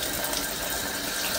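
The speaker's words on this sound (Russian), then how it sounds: "Вода сиреневая капает." Purple-tinted water falls in a steady, close stream from a tap, making a continuous hissing splash with no break and no voices.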